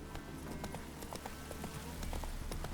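Geralt's horse Roach from The Witcher 3 trots along in a steady clip-clop of hoofbeats, close and fairly quiet over a low game background.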